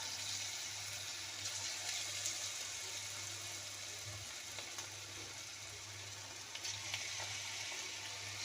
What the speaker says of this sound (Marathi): तेल इथं गरम झालेलं आहे. तर आपण हे मंचुरियन सोडणार आहे याच्यामध्ये.